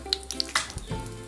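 Cinnamon, cloves and mustard seeds hit hot oil in a pan, giving a faint sizzle with small pops and crackles over a low hum.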